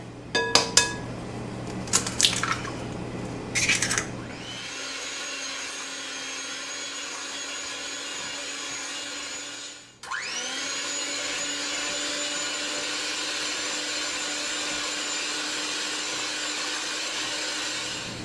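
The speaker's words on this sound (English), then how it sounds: "I'm going to add one at a time and beat after each addition" An electric mixer beats eggs into lemon pound cake batter with a steady whining motor hum. It cuts out briefly midway and then starts up again, and a few light clinks of utensils come before the motor starts.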